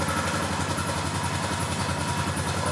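A Honda Foreman 4x4 ATV engine runs steadily at close range, a loud, even mechanical drone without pauses.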